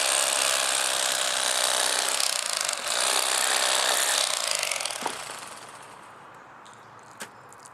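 A Bubba Blade electric fillet knife with dulling blades cuts through fish, making a loud, steady, close buzzing drone that runs for about five seconds and then fades into quieter handling and a single click.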